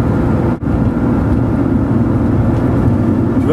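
Porsche 911 Carrera 3.2 with a SCART exhaust idling at a steady, stabilized engine speed: a loud, continuous low rumble, close up, with one brief dip partway through.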